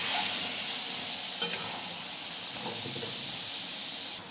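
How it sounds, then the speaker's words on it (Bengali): Taro greens sizzle and hiss in a pan, nearly dry with a little water left, as they are stirred with split green chilies added, a steady close frying crackle with a few soft scraping stir strokes. "আবার একটু নাড়াচাড়া করা"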